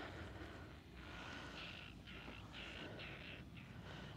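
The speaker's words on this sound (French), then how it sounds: "On entend les oiseaux." Several bird calls ring out in short bursts over a steady outdoor rumble by the water in Franche-Comté, fairly distant and moderately faint.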